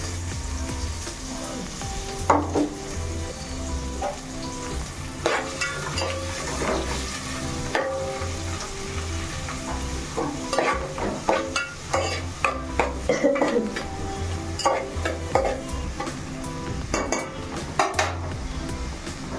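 Cardamom pods, added after onions, fry in hot oil in a pan while being stirred: a steady close sizzle runs throughout, broken by repeated metallic scrapes and clinks of a spoon against the pan.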